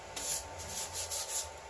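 Chalk-painted wooden furniture is sanded with 150 grit sandpaper in a quick series of soft, rhythmic rubbing strokes, close and alone.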